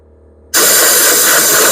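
Small Craftsman lawn tractor engine, its carburetor flooded with fuel, bursts into a loud, close, roaring rush of sound after a quiet moment and holds steady to the end.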